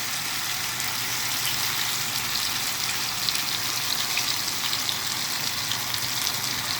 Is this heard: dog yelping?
no